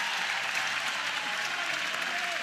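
A softball crowd at an Auburn vs Oklahoma game applauds a leadoff double: steady, dense clapping and cheering from a large audience, with no commentary over it.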